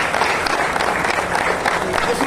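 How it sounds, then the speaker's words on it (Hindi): Loud, dense applause from an audience gathered to celebrate a street in Woodside, New York being named Dr. B.R. Ambedkar Way, a steady wash of clapping lasting a couple of seconds with a faint murmur mixed in. "जोरदार तालियां"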